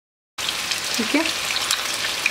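Boneless chicken pieces frying in hot oil in a pan: a steady, close sizzle that fills the clip, with no one talking.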